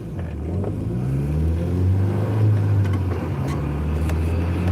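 A car cruises in fifth gear, its engine a steady low drone that swells slightly and holds, close and continuous with road noise and no talk.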